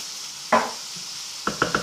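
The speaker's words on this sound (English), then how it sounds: "And we give that a stir. Make sure everything gets coated." Potato hash with garlic and mixed herbs is stirred in a pan: one scraping stir at the start, then three quick clinking scrapes of a utensil against the pan near the end, over a steady background hiss.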